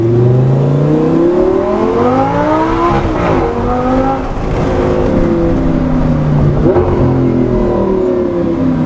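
Audi R8 V10 with a straight-piped custom IPE titanium cat-back exhaust, revving hard in repeated rising and falling sweeps, loud and close with a raw, rasping roar, no talking.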